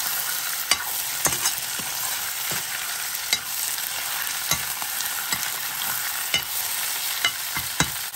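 Buffalo meat fries in a pan for Nepali-style buffalo curry, a steady close sizzle with sharp clinks and scrapes of a spoon stirring at irregular intervals.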